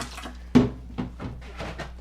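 Distilled water splashing as a Levoit LV600HH humidifier tank is rinsed, in a few sharp irregular sloshes and drips close by, with no talk.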